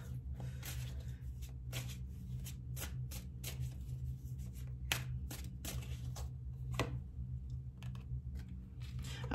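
Tarot cards shuffled and drawn by hand, a run of soft riffling clicks and flicks in an irregular rhythm over a steady low background hum, close and fairly quiet.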